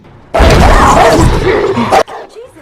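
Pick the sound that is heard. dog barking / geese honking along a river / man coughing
dog barking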